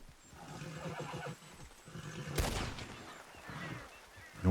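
A horse in a video game neighs and whinnies loudly, with clip-clop hoofbeats and a sharp burst partway through, heard close and clear without speech.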